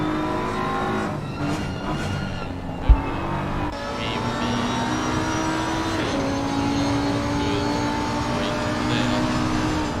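Race car engines in a racing video game at Bathurst drone steadily throughout, with engine pitch rising and falling as cars accelerate, plus a brief sharp knock near the start, all under a continuous mix of game audio.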